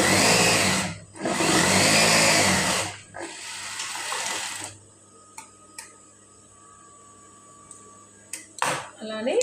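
A sewing machine stitches a blouse side seam in a few loud whirring runs near the start, then quiet stretches with light ticks and a brief final burst, and a person talks over it.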